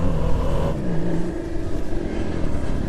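A Suzuki V-Strom SX-250 motorcycle is ridden on an off-road trail, giving a loud, rough engine drone close by. The engine note swells and dips slightly under wind and ground rumble.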